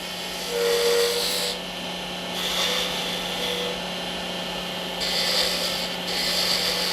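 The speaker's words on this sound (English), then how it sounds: "using the 3/8 inch spindle gouge, we're going to turn a tiny little bead on the end of it" A 3/8 inch spindle gouge cuts a small bead on the end of a wooden coffee scoop handle spinning on a lathe. A continuous scraping hiss rises and falls in several passes over a steady motor hum.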